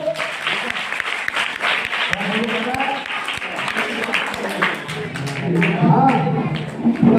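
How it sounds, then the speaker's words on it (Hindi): Schoolchildren clapping together in a classroom, a burst of scattered hand claps that swells louder toward the end, mixed with children's chatter and an adult voice. "इसके लिए एक बार तालियां बजा दो बच्चों।"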